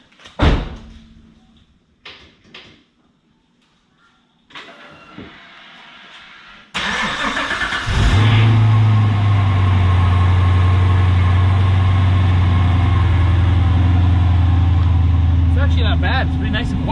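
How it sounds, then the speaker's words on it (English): A 455hp V8 in a BMW E24 cranks and catches after a car door shuts, then settles into a loud, steady, deep idle that continues to the end, with a few short voices near the start. "Have a seat, turn the key, press the button,"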